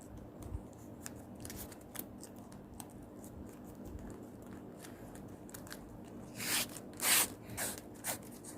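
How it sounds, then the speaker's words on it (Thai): Scissors snip the end off a ribbon while crafting a coin-scattering lotus ornament, a few quiet crisp clicks followed by a cluster of louder close cuts near the end. "แล้วก็ตัด ปลาย ออก"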